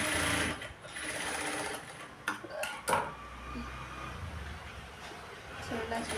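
A sewing machine runs steadily while stitching a blouse, its motor whirring continuously with a few sharp clicks and clanks midway as the fabric is adjusted; a voice speaks faintly over it.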